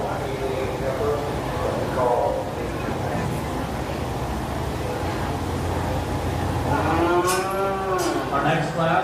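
Cattle moo repeatedly at a county fair beef show during the breeding heifer classes, drawn-out lowing calls over a busy barn background with a voice on a loudspeaker.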